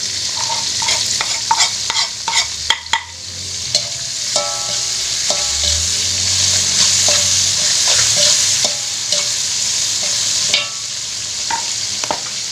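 Papaya flowers being stir-fried with chili, salt and sugar, a steady loud sizzle under repeated scraping and clattering of a spatula against the pan, with a few sharp knocks early on and no talking.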